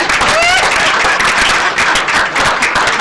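A studio audience on a Nigerian radio talk programme claps briefly in a dense patter of hand claps, mixed with lively voices talking over it.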